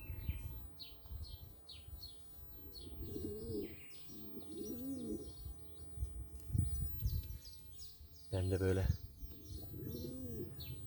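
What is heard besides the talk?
pigeons cooing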